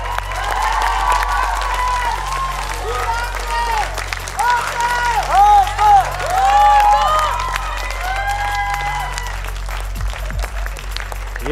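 An audience at a televised rap talent show applauds and cheers, loud sustained clapping with whoops rising and falling, while a voice on stage speaks over the crowd.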